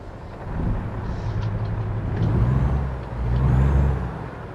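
A heavy truck engine in American Truck Simulator cranks and rumbles into a low idle, the deep drone swelling twice with faint hissing air-brake tones above it.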